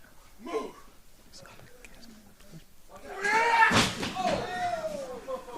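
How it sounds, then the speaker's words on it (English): Wrestler slammed into a wall, one loud crash partway through, surrounded by excited commentary and crowd noise. "Slams him into the wall."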